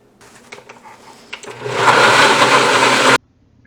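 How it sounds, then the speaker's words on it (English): After some clattering and lid taps, a blender starts and runs at a loud steady whir for over a second pureeing broccoli cheddar soup, then cuts off abruptly. "Next, place the mixture in a blender."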